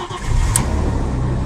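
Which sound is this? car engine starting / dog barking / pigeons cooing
car engine starting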